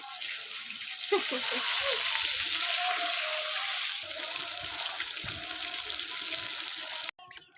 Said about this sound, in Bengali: মাছগুলো ভাজছি কত সুন্দর করে, লাল লাল করে